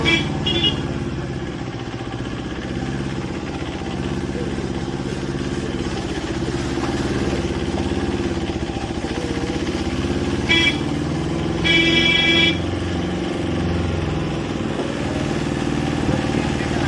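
Motorcycles and cars go by on a road, their engines droning steadily while horns toot several times, with brief bursts around the middle; a voice is faintly heard under the traffic.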